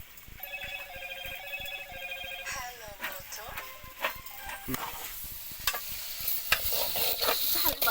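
Vegetables and lentils being stirred in a frying pan with a steady sizzle and irregular scraping clinks of the spoon, while someone talks over it and a phone rings early on.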